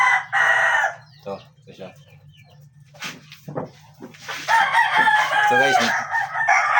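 A 5K sweater breed rooster crows loudly twice, with a short call at the start and a longer, strained crow near the end, while someone speaks briefly in between over steady low background hum.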